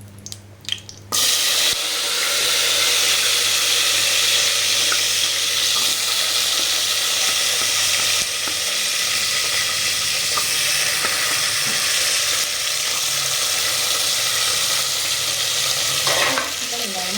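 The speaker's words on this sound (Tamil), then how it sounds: "முதல்ல எண்ணெய் காஞ்சிடுச்சு, அதனால் பட்டை லவங்கம் போட்டாச்சு." Cinnamon and cloves sizzle in hot oil at the start of a mutton and drumstick kurma, a loud, continuous close frying hiss with faint scraping of stirring and no talk.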